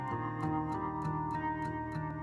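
Sampled track used in another artist's song: dense, steady music with sustained harmonic layers and a soft recurring percussive tick, playing loud and continuous throughout with no voices.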